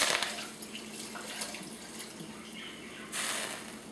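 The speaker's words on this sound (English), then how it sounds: "And what I'm going to do is add more water" Water is poured into a pot of arroz con pollo (rice and chicken) while cooking, a soft splashing trickle that carries on quietly throughout and grows a little louder near the end.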